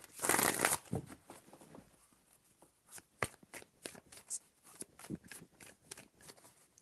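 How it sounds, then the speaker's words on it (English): Tarot cards being shuffled, with a loud riffling burst at the start and then a run of soft, sharp card taps and slides, close and quiet, with no talking. "Three shuffles."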